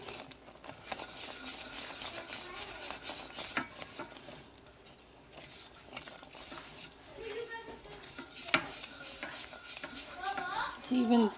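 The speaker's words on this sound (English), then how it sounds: "This needs to get a good mix really fast" Whipping cream is stirred quickly into hot caramel in a pan, giving a close, continuous bubbling sizzle with scraping and clinking utensil sounds.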